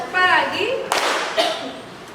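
A group claps together in a short burst of sharp hand claps, with a second smaller clap after, heard after a woman's speech in a classroom-like space, voices around it.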